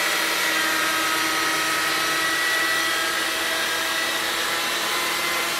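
A buffing machine polishes car paint to correct defects, a loud continuous motorized whir running steadily throughout with no talking.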